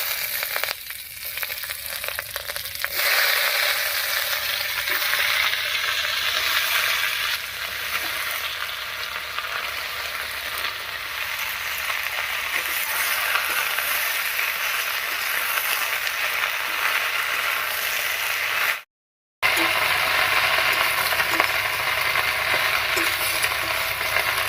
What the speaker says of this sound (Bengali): ফোড়নের উপরে বাঁধাকপিটা দিয়ে একটু নাড়িয়ে নিলাম